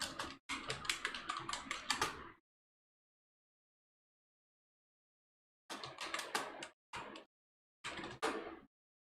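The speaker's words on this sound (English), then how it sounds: "let us ask by typing" Rapid typing on a computer keyboard, a dense burst of close key clicks followed by a pause and then several shorter bursts, heard alone in a quiet room.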